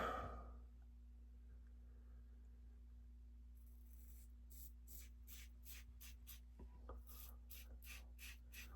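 A RazoRock Lupo safety razor makes its first pass, lining up the sideburns: after a quiet start come a series of faint, close, rhythmic scraping strokes of blade on stubble.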